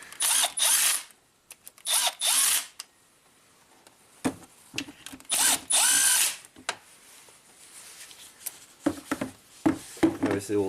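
A power drill whirs in several short, loud bursts, separated by clicks, clatter and handling noises of tools, during work on a Maserati.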